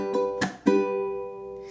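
Ukulele played with a claw-shaped downward chuck: sharp percussive muted strikes followed by a ringing chord that sustains and slowly decays, played alone and close up.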